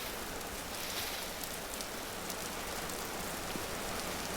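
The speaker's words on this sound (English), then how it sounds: "There's a lot of rain around us" Steady heavy rain falls in the video game Vintage Story, a dense, even hiss of drops spread evenly throughout, soft and continuous with no voices.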